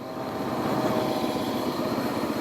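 A 2016 Beta 500 RR-S four-stroke motorcycle engine runs with a steady, close buzzing drone that holds an even level for the whole stretch.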